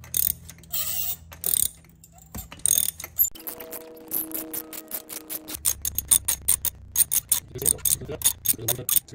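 Ratchet wrench with a spark plug socket loosening a spark plug on a third-generation Toyota Tacoma, rapid close clicking bursts in short runs with pauses, a brief hum in the middle.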